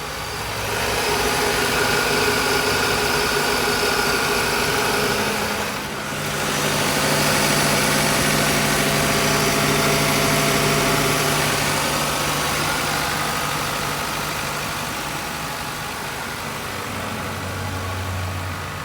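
A 1994-2001 Acura Integra engine idles steadily with the AC switched on, a close, continuous mid-pitched hum with a brief dip partway through and a faint tone change near the end.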